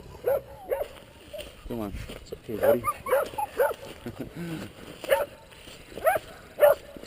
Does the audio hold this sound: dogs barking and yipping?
yes